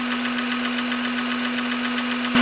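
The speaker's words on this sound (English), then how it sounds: "There's the tickety-tick-ticks of the injectors." A 2000 Honda Insight engine idling with the hood down, a steady hum and a fast, even ticking of the fuel injectors running throughout, with a possible valve out of adjustment; a brief louder bump comes at the very end.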